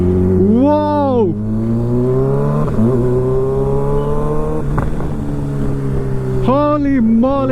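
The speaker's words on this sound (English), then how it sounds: "The M4 full system exhaust. Insane." A 2024 Kawasaki ZX6R fitted with an M4 GP19 full-system exhaust, loud and close, with sharp throttle blips sweeping up and down at the start and end around a sustained high-revving drone, with voices in the background.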